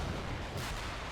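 Artillery fire in a wargame: a dull, muffled rumble of a distant shot, faint and smeared, with a slight swell midway and no voices.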